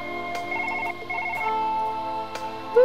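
Phone ringtone in the Surgeon Simulator video game, a bright electronic pulsing melody in short repeated bursts, loud and close, followed by a sustained tone.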